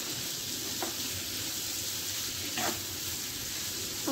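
Chili powder is stirred into a potato curry in a pan, a steady sizzle under a couple of scraping spoon strokes, close and unbroken, with no talking.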